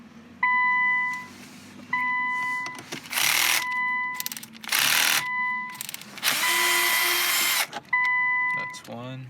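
A power driver whirs in several short bursts while removing screws from the shifter panel of a 2015–2017 Infiniti Q50, with electronic beeps between bursts and a person talking alongside.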